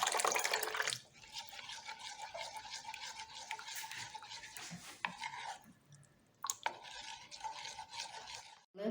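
Water is poured into a lemon pudding mixture with a brief rushing splash, followed by steady scraping and swishing as it is stirred in a bowl, with a short pause before stirring resumes, quiet and without talk.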